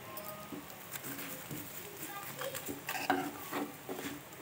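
A spoon stirs mushroom curry in a pan, giving soft scraping and clinking bursts against a faint sizzle, fairly close and moderate in level.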